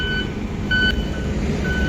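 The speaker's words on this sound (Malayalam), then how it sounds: "റോളർ ഇങ്ങനെ അടിച്ചടിച്ച് പോകുന്നുണ്ട്" A road roller compacts fresh tar on the NH66 flyover work in Kasaragod, a heavy engine rumbling steadily beneath a few short, high electronic reversing beeps, close by with no speech.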